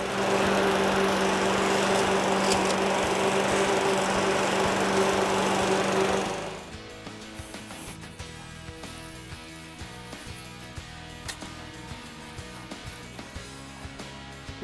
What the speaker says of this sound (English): We'll prepare the site by mowing back the grass